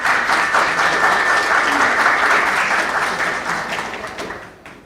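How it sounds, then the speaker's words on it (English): Audience at a policy forum event breaks into a big round of applause, steady dense clapping from a large crowd that gradually fades toward the end, with no talking over it. "let's please give a big round of applause for this event"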